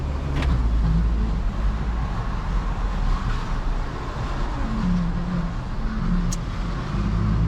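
A Hyundai Sonata DN8 out on a short test drive makes a steady low cabin rumble of engine and road noise that swells gently as it accelerates, with no one talking.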